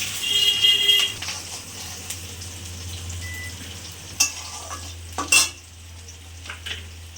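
Chopped onion hitting hot oil with dry red chilli and black cumin tempering, a steady close sizzle with a few sharp clinks of a spoon against the pan and a low hum underneath.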